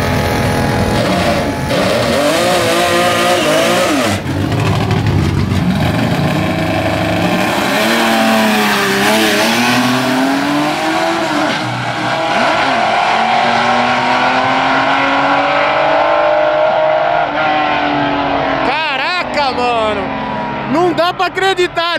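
Engines of a naturally aspirated Caravan and a Dodge roar loudly through a drag race, the pitch climbing and dropping with gear shifts, with excited voices talking over the noise.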